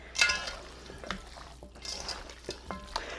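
Hands toss and mix seasoned chicken wing pieces in a bowl, making soft, faint squelching and rustling sounds with a few light clinks, fairly close and with no talking.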